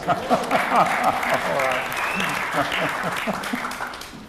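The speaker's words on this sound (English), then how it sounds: "give her a round of applause" Audience applauding a woman who has just spoken on stage, steady clapping that swells and holds for several seconds, with a speaker's voice briefly heard over it.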